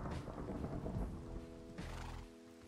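Thunder from lightning in Minecraft: a deep rolling rumble under steady rain, with a second swell of noise partway through, fairly faint and with no talking.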